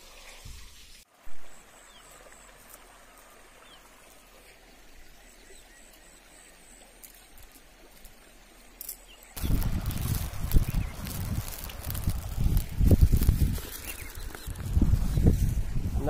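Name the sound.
river water flowing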